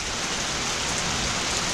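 Steady rain falls in a constant, dense hiss of drops on surfaces, even and unbroken, with no voices.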